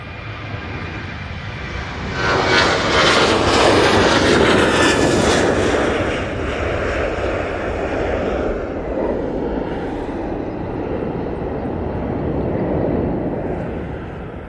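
A KLM airliner bound for Budapest rolls for takeoff at Manchester Airport, engines swelling into a loud jet roar after a couple of seconds, peaking and then settling into a sustained thrumming rumble.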